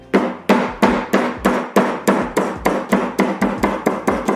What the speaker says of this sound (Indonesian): Nah ini digeprek aja.